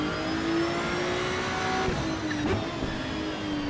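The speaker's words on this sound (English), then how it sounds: "because the downshifts sound good" A race car engine in the Project Motor Racing video game drones steadily at high revs, with a faint rise and blip near the middle and no talk.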